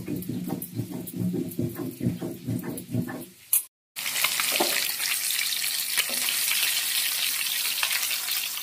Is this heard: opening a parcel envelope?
no